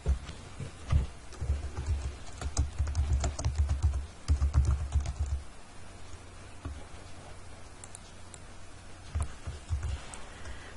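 Rapid typing on a computer keyboard while entering code tags in a text editor, with close, crisp key clicks in quick irregular bursts that ease off briefly midway and then resume more sparsely.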